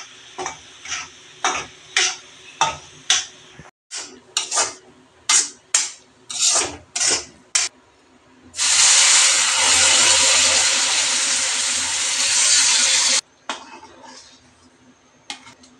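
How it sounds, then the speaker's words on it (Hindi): Semolina is stirred in hot ghee in a wok, first as a run of rhythmic scraping strokes and then as a loud, continuous sizzle lasting several seconds, followed by a few more quiet scrapes, close up with no speech. "यहाँ पे मेरा घी तैयार हो गया है, एकदम गर्म हो गया है। तो मैं इसके ऊपर डालूँगी सूजी।"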